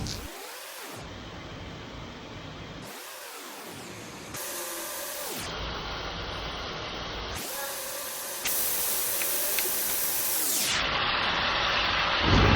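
Chicharon bulaklak fries in its own rendered fat with garlic in a pan, giving a steady loud sizzling hiss that swells in stages and fades in periodic dips.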